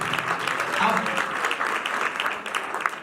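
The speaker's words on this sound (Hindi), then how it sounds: "जोरदार तालियां देंगे, हालेलुया।" Congregation applauding at a Hindi-language church service, a steady dense wash of clapping with some voices mixed in, fairly near and sustained throughout.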